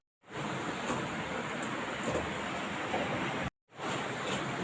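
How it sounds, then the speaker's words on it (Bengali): Water streams from boiled papaya pieces being drained, a steady, even broadband rush with no talking that breaks off briefly near the end and then resumes. "ভালো করে জলটা ঝরিয়ে নিচ্ছি"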